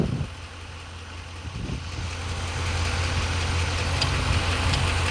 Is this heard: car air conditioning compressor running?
yes